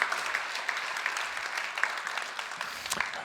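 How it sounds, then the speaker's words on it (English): Audience applause at the close of a talk on AI trends in Helsinki, a steady wash of many hands clapping at moderate distance, sustained evenly with no voices over it. "Let's give a big applause."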